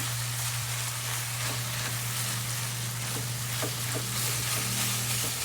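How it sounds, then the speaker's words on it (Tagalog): Minced garlic toasting in hot oil in a pan, a dense steady sizzle with scattered small pops and crackles, close and continuous, alongside a low constant hum. "Isabay na natin itosta ang garlic. Habang nagtutusta siya, nagtustahan na sila ng garlic."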